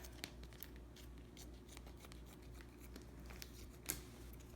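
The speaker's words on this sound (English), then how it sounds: "just going to start with these scissors and going to free up the model by cutting around here" Scissors cut around a thin dental bleaching tray model in faint, scattered snips and crinkles, quiet and close with no talking.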